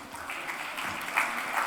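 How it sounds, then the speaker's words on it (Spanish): An audience at an agri-food innovation event gives brief, soft applause, a low steady patter of clapping heard from a distance. "Para Omar también les pido un caluroso aplauso"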